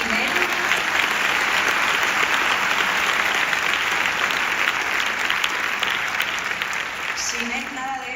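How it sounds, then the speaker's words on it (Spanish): An audience applauds loudly and steadily at a talk about an autism patent. The applause is a dense wash of many hands, and faint voices surface near the end. "le damos un aplauso"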